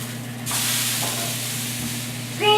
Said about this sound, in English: Let's flip that burger.